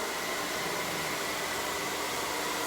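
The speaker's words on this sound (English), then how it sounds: "put the blow dryer right there at the roots" A handheld blow dryer runs steadily while drying hair at the roots, a constant broadband whoosh of hot air held close throughout with no pauses or voices.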